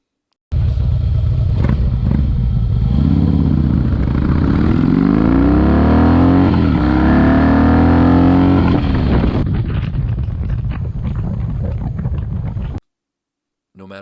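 Harley-Davidson Softail motorcycles, a CVO Softail Convertible with a 110ci Screaming Eagle twin cam and a Softail Slim 103ci, launch hard with a loud rising engine roar through the gears, then fade and cut off abruptly.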